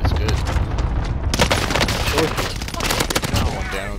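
Rapid gunfire in the Warzone video game, dense overlapping bursts that swell after the first second and keep rattling loudly to the end, with a voice now and then underneath.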